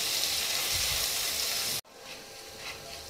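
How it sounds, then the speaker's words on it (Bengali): Grated ginger sizzles steadily in hot oil in a pan, a loud close hiss that drops away abruptly partway through, then resumes as a softer, quieter frying crackle. "দিয়ে আমি ভেজে নেব আদার কাঁচা গন্ধটা যতক্ষণ না যাচ্ছে।"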